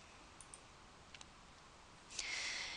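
A few faint computer mouse clicks over low room hiss, small separate ticks spaced apart, followed by a brief brighter hiss near the end.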